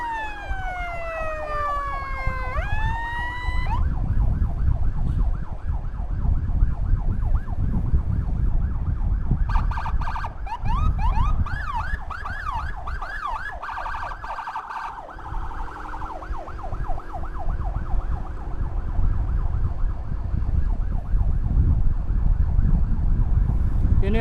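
Ambulance SAPA 002 in Tasikmalaya carrying a red-code patient, its siren wailing loud and close throughout with rising and falling sweeps and fast yelp bursts, over steady road and engine noise.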